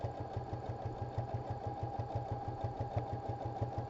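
A sewing machine runs steadily as it seams down the side of a shaggy fabric bag, its needle chattering in a fast, even rhythm that stays close and constant throughout.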